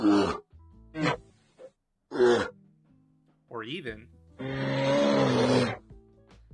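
A bear from the video game Baldur's Gate lets out a wavering growl and then a longer, rough roar, both following short bursts of someone talking.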